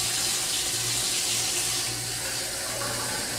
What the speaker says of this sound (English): So what we're going to do is we're going to use our tap water,